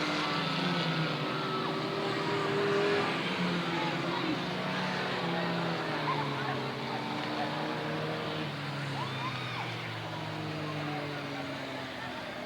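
Race cars lap Southern Oregon Speedway as a steady, continuous engine roar, with a public-address announcer talking over it throughout.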